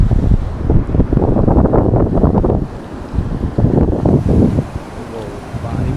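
Wind buffets the microphone over rolling surf at a white sand beach near Pune at dusk, with rain coming in; the roar is steady and loud, easing briefly midway before returning.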